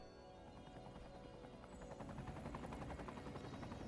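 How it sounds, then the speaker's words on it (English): A medical helicopter flies over the city in Cities Skylines II, its rotor chopping faintly and steadily and growing a little more distinct toward the end, with no talking. "There's like helicopters. Medical helicopter."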